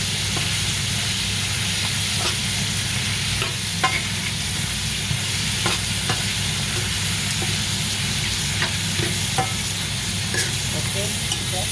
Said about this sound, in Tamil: நண்டை போட போகிறோம்.